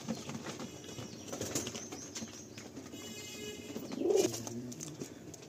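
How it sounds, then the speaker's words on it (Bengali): Lal Jiriya pigeons in a loft give low, soft coos while wings flap in brief bursts, with a louder flurry near the end, all fairly faint and with no speech. "এটা লালজিরিয়া পায়রা।"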